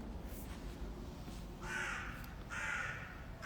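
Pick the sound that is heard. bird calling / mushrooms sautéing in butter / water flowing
bird calling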